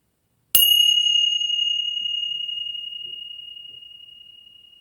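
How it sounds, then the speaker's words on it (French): A single Tibetan bell is struck once, and its clear high tone rings on alone, fading slowly over several seconds. "Que ce soit les bols chantants ou que ce soit les cloches tibétaines."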